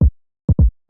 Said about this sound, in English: This is followed by just a basic punchy low-end kick which sounds like this.